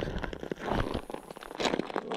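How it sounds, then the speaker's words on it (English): Dried, cracked mud being crunched underfoot beside a creek during fossil hunting: a continuous run of close, brittle crackling and crumbling, rising and falling in bursts with no talk. "crunching some mud cracks"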